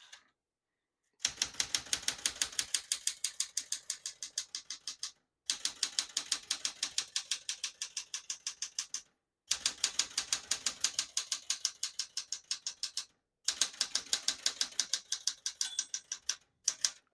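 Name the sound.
typing on a 1974 Smith-Corona Classic 12 portable typewriter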